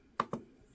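Two quick keystrokes tapped on a computer keyboard, close and fairly soft, in otherwise quiet surroundings.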